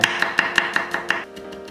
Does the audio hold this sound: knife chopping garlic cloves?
yes